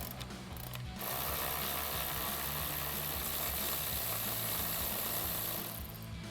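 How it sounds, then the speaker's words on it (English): A socket wrench with an 8mm socket ratchets a nut off a 2024-2026 Mustang GT during a grille install, a steady fast clicking run lasting several seconds, fairly quiet and alone. "We're gonna take an 8mm socket to remove that nut."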